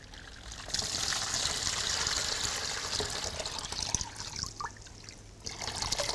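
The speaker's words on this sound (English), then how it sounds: "So if you could put a cup of cold water in there." Cold water pours and trickles into a bucket, a steady splashing stream that surges and eases, with a brief knock midway and the flow resuming toward the end.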